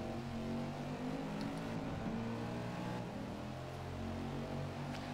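A muscle race car engine in the Forza Motorsport video game holds a loud, steady droning roar with shifting harmonic tones as it revs along the track, with no talk.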